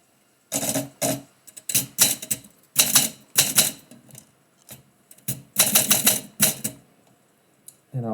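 A manual typewriter clacks out lines of poetry in uneven bursts of rapid keystrokes separated by short pauses, close and crisp with no voices.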